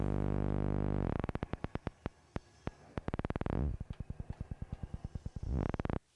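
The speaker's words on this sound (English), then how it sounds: "This is the sound of the function 2 wave." A Korg Volca Modular patch using the function 2 wave as a low-frequency sweep: a steady low drone gives way to rapid rhythmic pulses that slow, swell into a dense sweep, then speed up again, alone with no voices.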